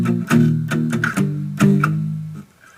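Palm-muted electric guitar chords from the chorus of a song, a chugging run of tight, distorted hits with a few sharper accents, played close and loud with no talking, then a clipped stop.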